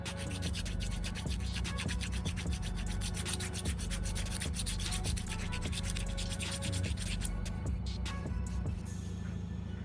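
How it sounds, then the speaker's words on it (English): A metal file rasps a burr off an oil return line on a 4G63 Eclipse, with rapid, continuous back-and-forth scraping strokes up close and loud, slowing into a few separate strokes at the end. "I'm just gonna take a file, there's also a little burr on this one."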